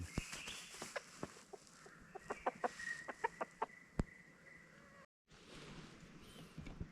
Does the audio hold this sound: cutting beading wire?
no